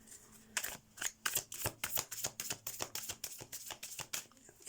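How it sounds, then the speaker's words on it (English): Tarot cards are shuffled by hand in a quiet room, a close, soft run of riffling bursts and taps in a steady, uneven rhythm. "Let's shuffle the cards for you to see what's coming up for you in May"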